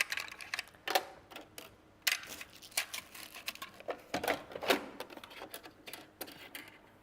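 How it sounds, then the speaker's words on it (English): Clicks and small clatters while the presser foot is swapped on a sewing machine, swapping out a zipper foot for an ordinary foot; close, irregular bursts of tapping with short pauses, no voices. "Want to change that foot on my sewing machine because I want to use an ordinary foot."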